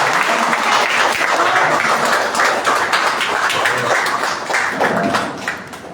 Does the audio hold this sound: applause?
yes